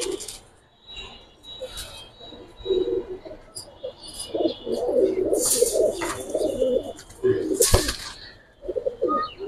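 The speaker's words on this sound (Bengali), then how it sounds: "এগুলো ফ্লাইং এর কবুতর ভাই, যে নিতে চান উড়ানোর জন্য নিতে পারেন।" Domestic flying pigeons of the Giribaz breed coo in repeated low, throaty phrases, close by. The phrases come intermittently, mixed with a few sharper chirps and rustles.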